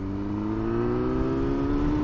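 A 2000 Yamaha FZS 600 motorcycle engine pulling steadily, its tone rising smoothly under acceleration, close and even in volume with no talk.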